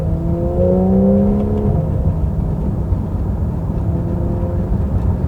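A Porsche 911 of the 991.1 generation with a PDK gearbox drives along, its engine drone rising through a quick gear change early on, then settling into a steady rumbling cruise with road noise.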